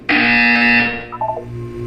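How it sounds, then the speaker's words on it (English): A loud electronic buzzer from the video game Portal sounds once as a sustained harsh tone and then cuts off, followed by a short softer electronic blip. "When you hear the buzzer, look up at the ceiling."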